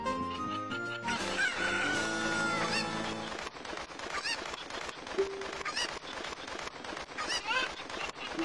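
Chickens in the game The Legend of Zelda: Ocarina of Time, a rooster's crow followed by a run of clucks and squawks over game music, clear and near, with no talk.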